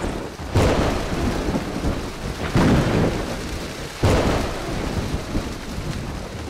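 A thunderstorm with steady rain and three heavy rolls of thunder that swell and fade in turn, loud and close, with no voices.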